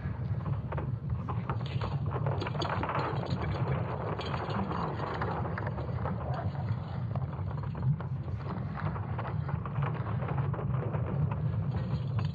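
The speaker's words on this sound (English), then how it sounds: "It's actually the sound of Earth's very own magnetic field." Earth's magnetic field sonified from ESA Swarm satellite data: a continuous low rumbling drone with creaking, rattling textures over it, eerie and steady from start to finish with no voices.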